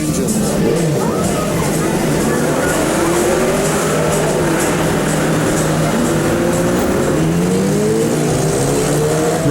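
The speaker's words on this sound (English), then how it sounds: "Apparently it's customary to rev your engine." Cars in a wedding procession rev their engines on a street in a Baltic port city, a rising and falling motor drone that runs steadily throughout, mixed with traffic noise and faint voices.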